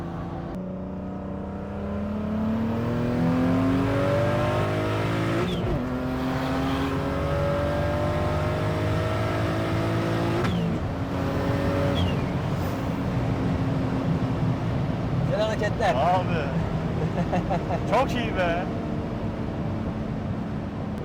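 A 700-horsepower BMW E39 accelerates hard, its engine note climbing through the gears with clear shift breaks, loud and close, while people talk over it.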